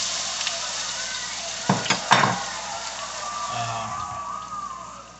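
Finely cubed russet potatoes are dumped into a hot pan with a few quick thuds and scrapes, followed by a soft, continuous sizzle of frying.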